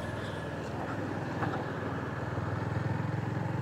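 A Honda CB350 RS motorcycle is ridden, its engine giving a steady low throb and rumble close by, with no talk over it.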